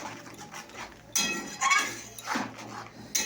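Cumin and chili powder are stirred in a metal pan, with a few sharp clinks and scrapes of a utensil against the pan between quieter moments, close and moderately loud.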